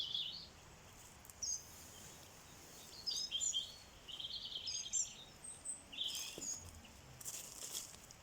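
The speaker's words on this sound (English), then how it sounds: "Just being in the woods with all the birds and the chickens." Faint, scattered high-pitched bird chirps and calls over quiet woodland background, with a few soft rustles and a brief low knock.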